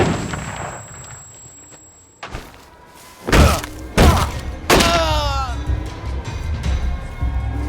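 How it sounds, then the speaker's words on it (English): A grenade goes off in We Happy Few: after a quiet stretch, several heavy thumping blasts hit in quick succession, followed by a rumbling aftermath with warbling tones and background game noise. "grenade!"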